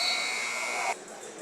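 A loud, sustained electronic buzzer marks the end of a quarter at a high school basketball game between Combine Academy and Sunrise Christian at the Hoop Hall Classic, sounding for about a second before cutting off into crowd noise.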